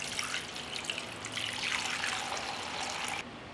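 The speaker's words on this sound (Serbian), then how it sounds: "Sipat ću vodu u šerpu." Water pours steadily into a cooking pot holding jars set on a cloth for pasteurization, a continuous close trickle that rises in pitch and then stops abruptly.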